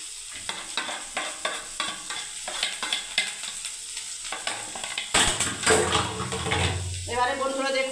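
Chopped tomato, carrot and beans fry in a pan with a steady sizzle and rhythmic stirring scrapes, then louder clattering as more goes into the pan.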